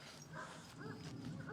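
Dogs on a farm barking and yipping at a window, a few short excited barks and whimpers close by, fairly quiet.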